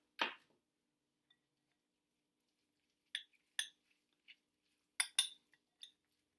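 A spoon stirs mayonnaise into tuna salad in a bowl, producing sparse, sharp metallic clinks and taps at irregular intervals against near silence, with no speech.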